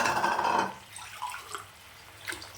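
Water poured from a tumbler into a pot of egg biryani being cooked on the stove, a short steady splashing pour that stops abruptly, followed by faint drips and small clinks.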